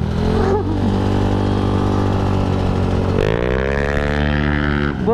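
A Yamaha Aerox 155cc scooter engine runs loud and close, holding a steady drone, then revving and settling into a rising, accelerating pitch toward the end.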